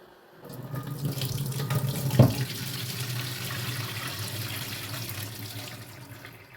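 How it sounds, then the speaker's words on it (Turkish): Water pours steadily from green olives being drained in a kitchen sink, a continuous splashing rush that starts abruptly and runs at an even level throughout, close and clear with no voices. "Zeytinlerimizi yine suyunu süzüyoruz."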